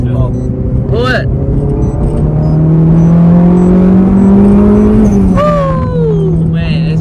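A car pulls hard in third gear on a street run, its engine note climbing steadily and loud before dropping at the shift, with people talking and reacting over it throughout.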